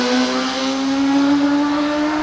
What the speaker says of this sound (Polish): pan motorem jechał